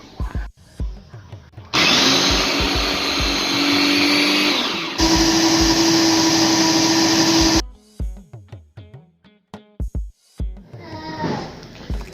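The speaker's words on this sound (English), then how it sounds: "So I'm just going to go ahead to blend the rest" A blender grinds soaked beans into akara batter with a loud, steady whir that runs for several seconds, changes pitch once partway, then stops and gives way to light clattering and handling noises.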